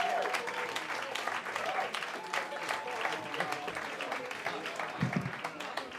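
A live comedy club audience applauds a comedian walking on stage. The dense, sustained clapping fills the room while a host's voice carries over it.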